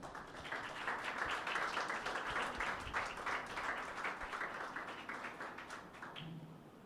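Church congregation applauding at a Pentecost Sunday service, a dense, steady wash of many hands clapping for several seconds before thinning out near the end.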